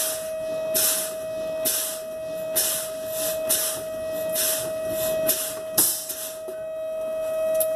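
Truck air brake system hissing in repeated bursts as pressure drops until the parking brake pops out, with a steady tone underneath and a sharper burst near the end.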